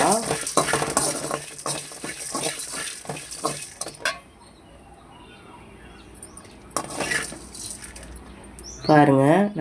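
Spices roast in a pan for hotel-style sambar, a spatula scraping in quick repeated strokes over a faint sizzle, then a quieter stretch before someone speaks.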